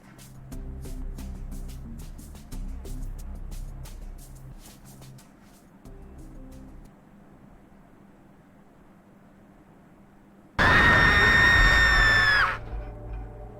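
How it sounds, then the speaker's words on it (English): A loud, piercing scream from Tower of God: New World erupts near the end, lasting about two seconds after quieter game ambience and music. "What was that scream just now?"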